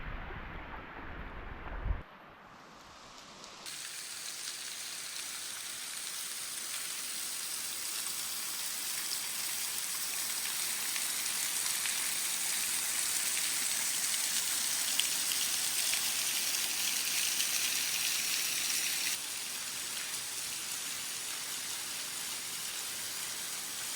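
Steady rain falls on a desert hiking trail near Hanksville, Utah, a dense even hiss that holds throughout after a brief quieter start, close and fairly loud, with no voices.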